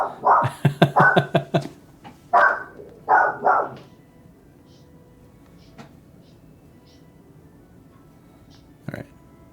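Indoors at a pancake griddle cooking contest, a dog that has gotten out lets off several rapid, loud barks in quick bursts, then falls quiet apart from faint background clatter and a single sharp knock near the end.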